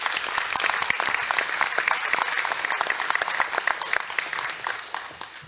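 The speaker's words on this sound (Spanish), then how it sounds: "Quiero un aplauso, por favor, de todas y todos para la hermana República de Cuba." Applause from delegates at a meeting of culture ministers in Havana: many hands clapping at a moderate distance, steady and fairly dense for about five seconds, without talking.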